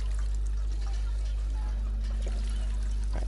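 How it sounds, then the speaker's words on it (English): Character drinking water in the Fallout 4 video game: a soft, steady pouring and trickling sound over a loud, constant low hum, with a faint burst near the end. "Right, so drink this water."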